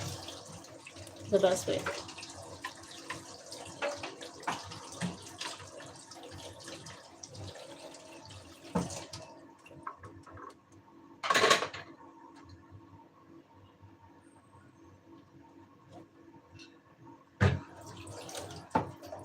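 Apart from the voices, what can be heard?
rinsing utensils under a running kitchen tap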